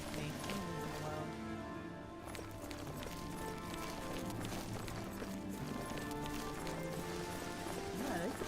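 Horse hooves of a guard riding in the video game Oblivion, a quick steady clip-clop of a running horse amid game music and ambience.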